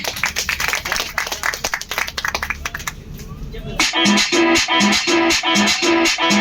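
People clap along at a lively dance on a boat, sharp rhythmic claps near and loud, followed by music with a steady beat taking over midway.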